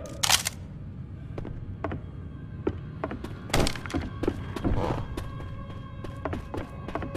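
A weapon is reloaded in the zombie shooter Left 4 Dead 2 during a swamp level, heard as a series of close, sharp mechanical clicks and thunks spread irregularly across several seconds with some louder impacts.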